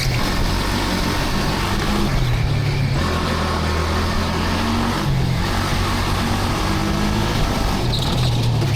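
A 15 hp six-gear indoor shifter kart drives on track, its engine a loud continuous drone that shifts pitch as it revs and changes gear, steady throughout with no talking.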